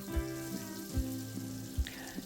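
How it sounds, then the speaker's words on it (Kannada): Whole spices sizzling in hot oil in a pan for a home-made chicken biriyani, a soft steady frying hiss broken by a few dull knocks of a utensil against the pot. "ಇವಾಗ ಇದನ್ನೆಲ್ಲ ಸ್ವಲ್ಪ ಫ್ರೈ ಮಾಡ್ಕೋತಾ ಇದ್ದೀನಿ ಎಣ್ಣೆಯಲ್ಲಿ"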